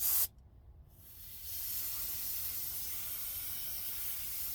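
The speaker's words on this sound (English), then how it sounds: "I'm just going to spray a very light coat." A steady, soft airbrush hiss spraying a light coat of enamel paint on a Lindberg '63 Mustang II scale model starts after a brief pause and runs continuously at an even level, close by with no voices.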